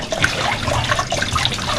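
Water gushes steadily and forcefully from a tap, a dense continuous rush with no talking.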